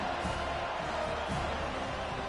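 A stadium crowd at a college football game roars steadily, a dense, continuous wash of cheering and shouting that holds at an even level throughout without any break.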